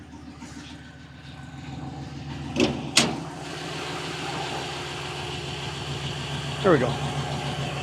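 A 1970 Chevelle restomod's upgraded LS1 V8, with FAST fuel injection, a new fuel pump and a tune, idles steadily up close with its hood partly raised, a low, even rumble running throughout while someone speaks briefly.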